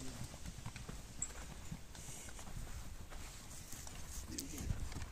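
Mule hooves clip-clopping on a farm, a quick, steady run of close hoof knocks heard under people talking in Portuguese.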